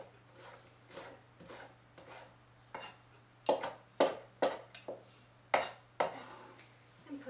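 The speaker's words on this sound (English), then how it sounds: "We first start out by just rough chopping the leaves." Rough chopping of lambsquarters leaves with a knife on a board: a series of sharp, close knife strikes, irregular at first, then louder and more evenly spaced, with a steady low hum under them.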